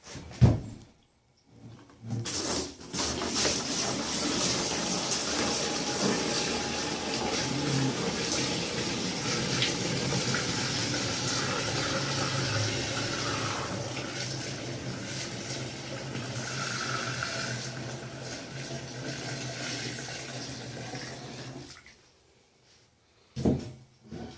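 Homemade coffee wine, about three gallons, is poured from a large cook pan in a backyard brewing setup, a steady rushing, splashing stream lasting about twenty seconds, with clunks of handling at the start and end.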